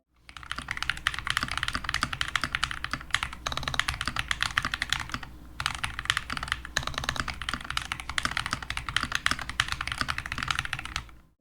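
Rapid, clacky keystrokes from a mechanical keyboard with a ticking spacebar stabilizer, close and continuous, with a brief pause midway before typing resumes.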